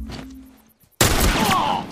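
Rifle gunfire in a video game erupts suddenly as a loud, dense burst after a brief near-silence, sustained and close, with the rattle of shots filling the remainder.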